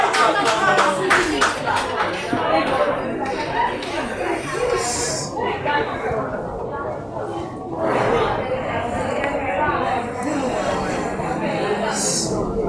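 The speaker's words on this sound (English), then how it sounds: "a round of applause for that beautiful woman" A seminar audience claps for a woman called forward, the applause dense at first, then thinning under people talking, with a few bursts of clapping returning later.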